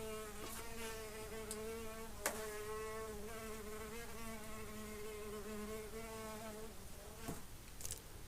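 A flying insect buzzes steadily and close by throughout, a sustained droning tone with a few brief clicks and knocks during a quiet indoor meditation session.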